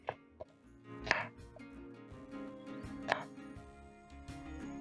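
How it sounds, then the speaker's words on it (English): Knife roughly chopping an onion on a board in a home kitchen, a few scattered soft chops and taps at an uneven pace, close but fairly quiet. "I'm going to start off with roughly chopping up my onion"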